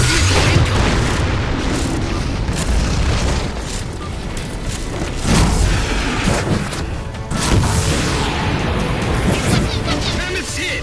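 Heavy explosions pound the Mammoth vehicle in the Halo 4 video game, a dense, continuous barrage of booms and crashes with several sharp impacts rising above the rumble, loud and close.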